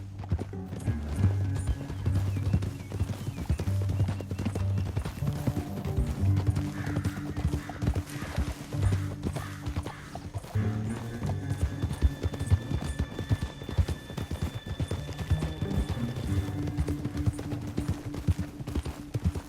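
Horse hooves pound in a rapid, steady galloping rhythm with a low rumble in the video game Red Dead Redemption 2, and a horse whinnies briefly partway through.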